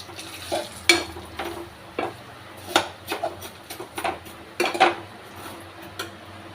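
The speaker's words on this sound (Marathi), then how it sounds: "शेवाय पण आपण छान असे याच्यामध्ये फ्राय करून घेऊ घीमध्ये" Vermicelli (shevai) frying in ghee, a quiet sizzle beneath frequent clinks and scrapes of a utensil stirring against the pan, irregular and close, with no talking.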